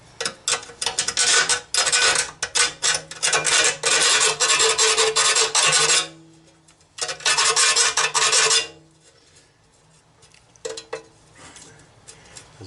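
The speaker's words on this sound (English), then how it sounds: "Got my rat tail file. Don't want any of these burrs coming off and getting into the transmission." A rat tail file rasps burrs off a Jeep JK transmission pan in loud, close, gritty strokes that run nearly continuously for six seconds, then a shorter burst, then fade into faint scattered scraping.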